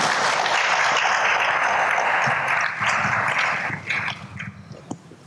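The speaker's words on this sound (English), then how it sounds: "The governor is allergic to bad clapping, so please, you want to do it better." An audience at a business summit in Ghana applauds, a dense and steady roar of many hands in a large hall that gradually thins and fades toward the end.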